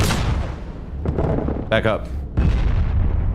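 Grenadier explosions boom in the Project Reality military game, several heavy blasts and bursts of battlefield noise under voices calling out.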